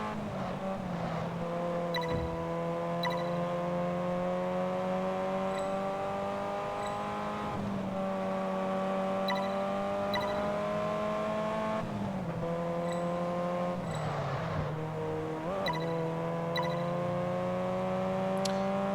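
Sky blue Ferrari 308 race car in Test Drive Unlimited 2, its engine droning and revving steadily through gear changes, with occasional brief tire squeals, alone and fairly close.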